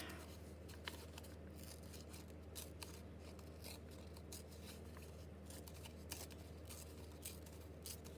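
A paper picture torn out for an envelope journal page, a soft continuous ripping and rasping texture, close and quiet, with no talking.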